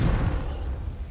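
A Confringo spell in Hogwarts Legacy bursts into a brief low booming explosion, loud at the start and rumbling off over about a second.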